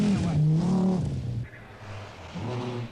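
Audi Quattro rally car cornering on a 1981 World Rally Championship stage, its engine loud and close, rising in pitch, dropping off on the lift through the bend, then pulling hard again.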